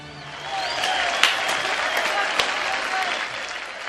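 A theatre audience cheers and applauds in a dense, steady wave of clapping, loud and continuous throughout, with a few sharper claps standing out from the crowd.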